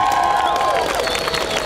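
Audience applause and cheering at a biker festival, a dense wash of clapping from a crowd mixed with a voice and a droning tone, loud and continuous over a short stretch.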